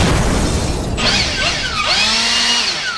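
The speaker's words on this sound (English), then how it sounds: "I stole their leaf blower." A leaf blower running, a loud whining motor with harsh rising and falling pitch sweeps as it revs, close by and alone without talk.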